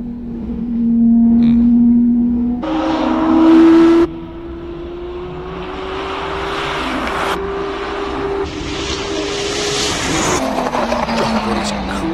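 Race car at Simola Hillclimb accelerating hard, its engine wailing loud and close through rising gear pulls with brief shifts and a steady high-revving drone.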